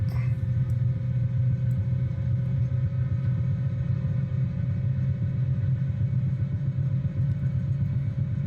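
Bell 222B helicopter engines running during start-up in Microsoft Flight Simulator 2020, a steady low rumbling whine with a constant tonal hum, continuous and even throughout without speech.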